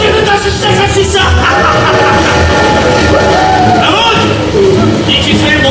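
A rumbling train sound effect plays on stage during a Korean production of the musical Zorro, under loud shouted dialogue and crowd noise.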